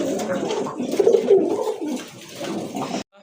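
Gorra pigeons cooing close by in a soft, rolling, throaty burble that continues for about three seconds and then cuts off abruptly, with no talk.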